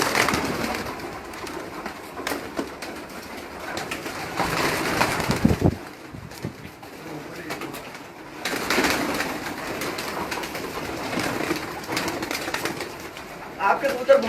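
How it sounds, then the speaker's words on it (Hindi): Soft pigeon cooing with bursts of fluttering wingbeats, close by, mixed with a low background murmur of voices. "आपके कबूतर बहुत तेज फड़के हैं"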